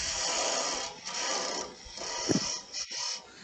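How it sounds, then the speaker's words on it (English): Tool scraping a turned wooden Christmas ornament spinning on a lathe to clean off a burn mark, a steady rasping, rubbing hiss with brief pauses and a few sharper scrapes, close by with no talking. "We're just going to scrape this off a little bit of a burn there."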